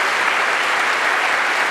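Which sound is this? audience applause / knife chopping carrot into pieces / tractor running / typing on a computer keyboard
audience applause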